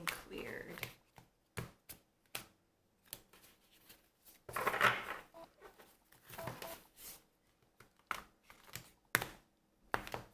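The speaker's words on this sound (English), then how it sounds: "I gotta shuffle my cards up, or I'm gonna keep on getting the same ones every single reading" Tarot cards being shuffled by hand in soft, irregular riffles and slaps, faint and close, with pauses between bursts.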